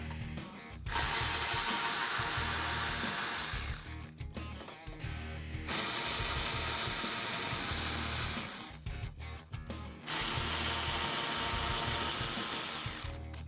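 A socket ratchet fitted with a 5.5mm socket backs out screws holding the belly pan to the subframe of a 2005-2009 Mustang GT, giving close, loud bursts of rapid ratcheting clicks in three long runs with short pauses and rattles between.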